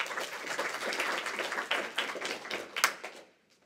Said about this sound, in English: Clap him in.